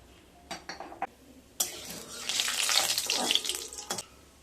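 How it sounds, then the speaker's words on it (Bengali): Black cumin seeds are fried in a little mustard oil in a wok for a stuffed ash gourd fry, giving a loud, steady hissing sizzle after a few short clinks and knocks, then a couple of sharp taps near the end. "তার জন্য দিয়ে দেব কড়াইতে খুব সামান্য সরষের তেল, 1/2 চামচ কালো জিরে,"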